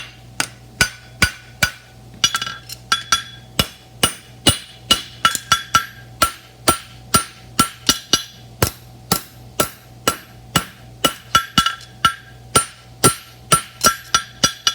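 A blacksmith's hammer rings on the branch of a roadster horseshoe at the anvil, striking with both toe and heel in a steady, loud series of sharp metallic blows with slight pauses. No voice is heard.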